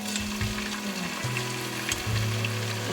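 Ginger garlic paste frying in oil over browned onion, a steady loud sizzle and crackle throughout with a faint kitchen hum underneath.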